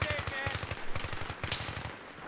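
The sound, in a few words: gunfire in Battlefield 3 video game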